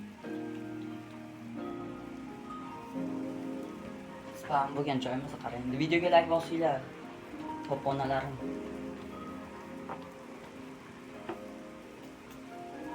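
Steady patter of in-game rain hissing in Minecraft while a person talks over it, the voice louder and more animated in the middle.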